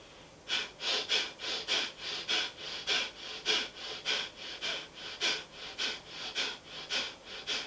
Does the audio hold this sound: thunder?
no